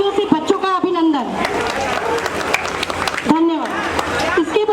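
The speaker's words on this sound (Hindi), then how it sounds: "जोरदार तालियों से बच्चों का अभिनंदन।" Applause from an audience at a Dussehra festival stage performance by children, a broad steady wash of clapping lasting several seconds, with a voice speaking over it now and then.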